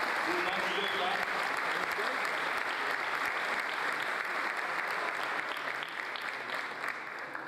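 A crowd at a Brazilian government program launch gives the deputies a sustained round of applause, dense and steady, with voices faintly underneath.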